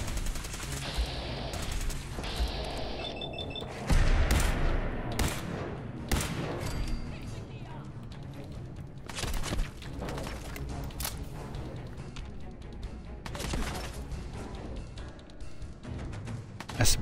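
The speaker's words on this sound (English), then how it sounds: "That's some pretty good shooting there" Gunfire in the Fallout 4 video game, with repeated bursts and single shots cracking over a dense battle din, loud and sustained, while someone talks intermittently.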